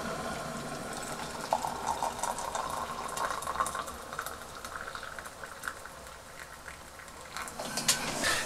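Freshly boiled water poured into a cup, a soft bubbling, trickling wash with small splashes and clinks, close and fairly quiet, continuing unevenly for several seconds.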